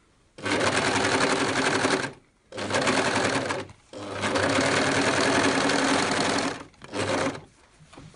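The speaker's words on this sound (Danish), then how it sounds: "maskinen hjælper mig altså med at holde det her rynk inde til ribkanten" A sewing machine gathering fabric onto a ribbed edge for toddler bloomers runs in several loud, close bursts of rapid stitching separated by short pauses.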